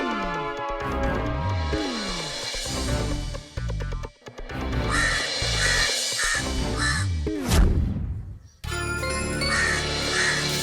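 Crow caws play from a mobile phone in a series of loud, harsh calls, repeated rhythmically, with a brief tinkling jingle and short gaps between bursts.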